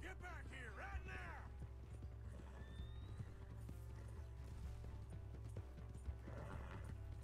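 Faint, steady clip-clop of horse hooves in Red Dead Redemption 2 carries on under quiet background noise, with a brief voice near the start.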